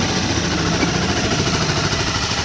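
A 2012 Honda CBR250R motorcycle engine idles steadily with a rough, buzzy putter like a lawnmower, close and loud, unchanging throughout.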